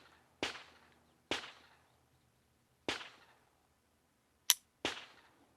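Five loud, sharp gunshots from a Cimarron Badboy .44 Magnum revolver ring out alone, evenly spaced with pauses between them, each cracking and decaying quickly.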